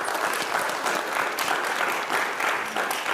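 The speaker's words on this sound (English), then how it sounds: "Give a huge round of applause to our wonderful panelists." Audience at a sustainability panel event gives the panelists a steady round of applause, a dense, even clatter of many hands at moderate volume throughout.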